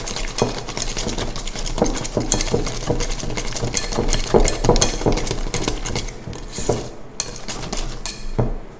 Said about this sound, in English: I find with these cake mixes, they're just so simple to throw together that a whisk is enough.